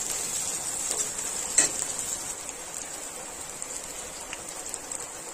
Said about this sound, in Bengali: পাঁচ ফোড়ন তেজপাতা, শুকনো লঙ্কা, পেঁয়াজ, কাঁচা লঙ্কা সব ভালোভাবে ভেজে নেব